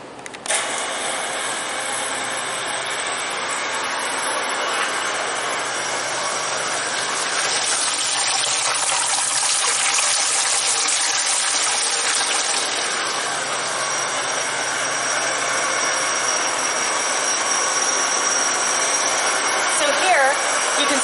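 Sparge water flows through a beer-brewing system as wort drains past a false bottom toward the boil kettle, giving a steady, unbroken rushing hiss that holds at the same level for about twenty seconds.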